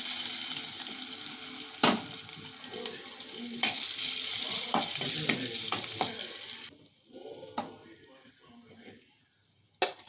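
Garlic hits hot oil with a loud, steady sizzle as cabbage bhaji is started Malvani style, sharp crackling bursts at the drop, then the frying quiets abruptly near the end.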